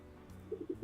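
A squeezed plastic toy duck gives a series of soft, pigeon-like coos, four short hooting pulses close together near the end, heard alone without speech.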